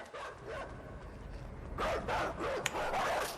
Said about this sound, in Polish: Jezu, biegnie ten pies, nie!